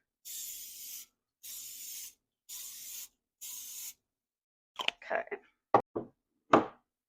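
Cooking spray bursts onto a plastic Reese's cup mold in four even, evenly spaced hissing sprays, followed by a few short knocks and clatters up close.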